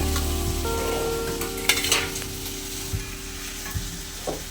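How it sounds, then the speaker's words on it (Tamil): Spinach gravy ingredients sautéing in a pan for palak keerai gravy, a steady soft sizzle with occasional spoon scrapes and stirring clatter, close and continuous with no talking. "இது ஒரு ரெண்டு நிமிஷம் வதங்கணும்"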